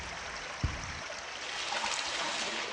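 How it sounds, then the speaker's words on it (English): River current flows down an old subway tunnel in the Blindscape video game, a constant watery rush with a single soft splash or knock near the start; no voices. "This old subway tunnel seems to have a river running down it."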